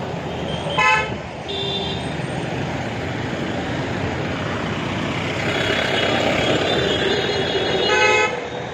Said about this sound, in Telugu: విజయవాడలో ట్రాఫిక్ బాగా పెరిగిపోయింది.